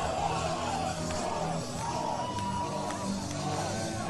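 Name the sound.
wrestling crowd chanting oi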